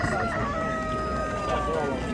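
A rooster crows repeatedly at an outdoor bird market in Ganja, Azerbaijan, its steady call carrying over dense crowd chatter and market bustle.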